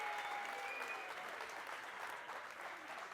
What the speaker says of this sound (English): Can we get one big round of applause for Fanie Botha,